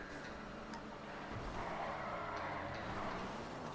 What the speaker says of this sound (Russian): Хороший дрифт и в столб.